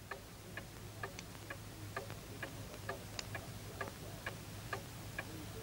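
A clock ticks steadily in a quiet room in a martial arts film scene, its faint, evenly spaced clicks running alone without any voices.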